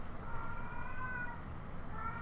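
A pet cat meows in a drawn-out, wavering cry heard close over a low background hum, with a second shorter meow near the end.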